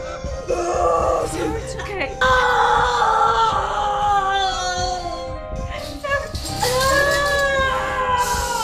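A woman screams and wails in pain during severe labor contractions in a film scene, loud sustained cries rising and breaking repeatedly, with tonal vocal strain throughout.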